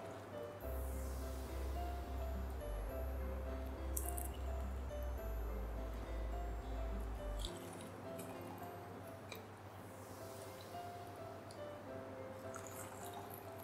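Chicken yakhni stock is poured through a strainer, giving a soft, steady trickle and drips over a low kitchen hum, with a few light clinks along the way.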